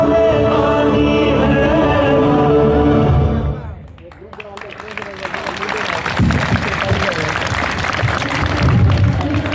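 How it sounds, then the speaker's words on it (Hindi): Audience at a government senior secondary school Republic Day program applauds after a performance: continuous clapping that breaks off briefly, then swells back strong and sustained, with music fading out at the start. "शानदार तालियां"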